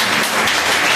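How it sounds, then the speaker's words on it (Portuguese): Brief burst of loud, dense applause from a church congregation at a Baptist service, a wash of many hands clapping together for about a second. "Aplauda o Senhor."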